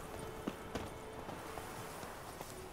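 A horse walks on its hooves in The Witcher 3, with soft, irregular clip-clop hits spaced about half a second apart over a constant ambient hiss.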